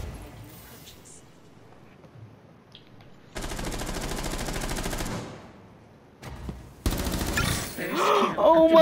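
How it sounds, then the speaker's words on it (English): Game gunfire fired through a wall in a shooter match, heavy bursts of shots arriving in loud blocks with a short gap between them, partly under speech. "I got a headshot through the wall!"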